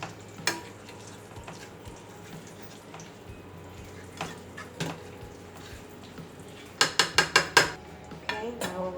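Homemade croutons with basil flakes stirred in a pan, a soft low sizzle with scattered utensil knocks and scrapes, ending in a quick burst of sharp rattling clicks.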